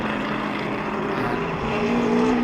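Classic Ferrari and Shelby race cars compete at Goodwood, giving a loud continuous engine roar with a rising pitched whine as they accelerate past, no voices.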